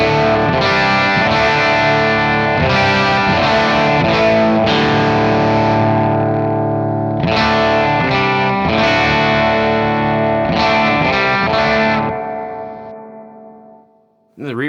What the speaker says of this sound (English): The reverb's great.